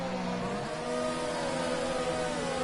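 A Formula 1 car in a racing video game at the Austrian round, rolling into the pit lane with a steady, droning engine hum that holds level throughout, close and continuous with a slight rise partway through.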